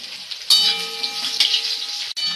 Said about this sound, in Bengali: এরপরে উচ্ছেগুলোকেও ভেজে তুলে নেব।